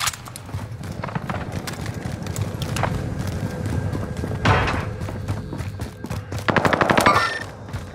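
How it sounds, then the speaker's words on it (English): Enemy gunfire in a Resurgence match, with rapid bursts of automatic shots crackling at mid distance and a longer, louder burst near the end over a rhythmic thudding background. "They're shooting me!"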